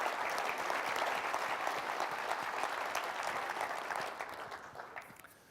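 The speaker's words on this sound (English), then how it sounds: "Please give him a warm round of applause" A corporate forum audience gives sustained applause after a fireside chat, dense and steady hand clapping from a large crowd that gradually fades and thins over the last seconds, with no talking over it.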